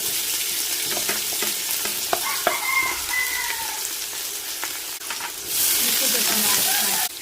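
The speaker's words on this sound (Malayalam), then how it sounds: "നമുക്ക് ഓയിൽ ഒഴിച്ചു കൊടുക്കാം കേട്ടോ. നമ്മൾ ചോപ്പ് ചെയ്ത ഉള്ളി ഇട്ട് കൊടുക്കാം." Chopped onions frying in hot oil in a biryani pot, a steady broadband sizzle with occasional stirring clicks, growing louder and denser near the end, with no talking.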